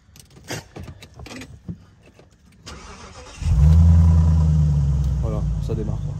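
A car engine cranks and catches, settling into a steady loud idle after some earlier clatter and key jangling, with excited voices talking over the start.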